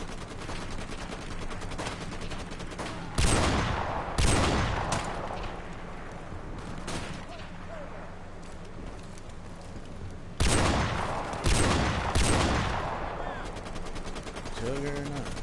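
Gunfire rattles through an online first-person shooter match, with repeated loud bursts of automatic fire and single shots over a steady game background while a player talks.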